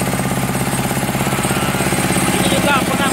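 A rice milling machine engine runs with a steady, rapid mechanical chugging and vibration, close and loud throughout.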